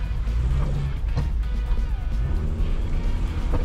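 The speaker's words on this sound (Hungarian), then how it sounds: "hogy Mancs most először vezet fordított kormányos autót" A Suzuki Swift fitted with reversed steering drives along, its engine droning and rising and falling nearby, with some muffled background noise and no clear talk.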